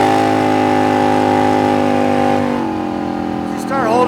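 Polaris Sportsman Touring 850 or XP 1000 ATV fitted with an MBRP 5-inch single slip-on exhaust, accelerating with a steady, loud engine drone that rises and shifts pitch partway through, heard up close with a voice talking over it.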